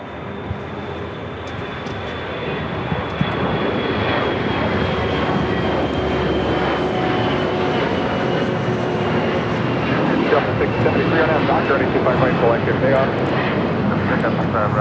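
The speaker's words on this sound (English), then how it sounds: "This is Delta Airlines 1115 taking off to New Orleans on an A321" A Delta Airlines Airbus A321 takes off from LAX with a loud, steady engine roar and rumble, heard from nearby. Talk and radio chatter run underneath throughout.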